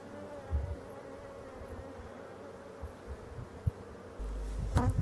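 Honey bees hum steadily around an open hive during an August honey harvest in Côtes-d'Armor, a soft continuous buzz close by, with occasional light knocks and handling noises.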